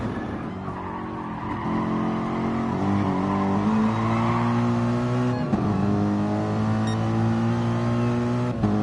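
A race car in a sim racing championship on a seaside track powers out of a corner, engine revving up through several gear changes with a brief tyre skid, loud and close with no talk.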